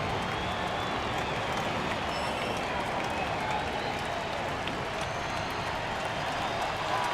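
A stadium crowd in the MLB 2K9 baseball video game, Blue Jays versus Yankees in the ninth inning, keeps up a dense, steady roar of cheering and applause throughout, distant and unbroken with no clear voice on top.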